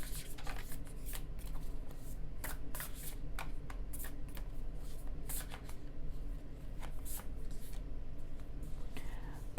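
Oracle cards are shuffled in a quiet room, with a rapid series of soft, papery riffles and flicks.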